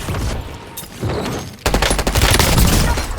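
Sustained automatic gunfire in the Warzone video game, a dense continuous burst that grows louder and heavier halfway through and keeps going to the end, with no talk over it.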